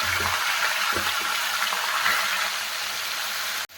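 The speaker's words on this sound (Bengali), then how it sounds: "চিকেনগুলো ভালো করে ভেজে নেব।" Chicken pieces sizzle steadily in hot Amul butter in a pan, a continuous loud frying hiss with a few soft knocks early on and a sharp clatter near the end.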